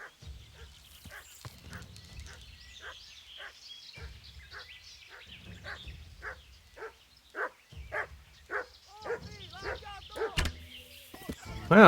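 A dog in the Kingdom Come: Deliverance video game barking repeatedly in a steady rhythm, growing louder and more frantic, mixed with low thumps that could be arrow hits and a brief voice.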